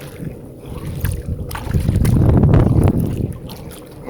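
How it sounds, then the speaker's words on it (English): Wind buffeting the microphone while kayaking near Sandy Creek in the Florida Keys, a rough, rumbling roar that swells and gusts over a few seconds, close and fairly loud, with no clear talk. "pardon the wind, you may break up my voice a little bit"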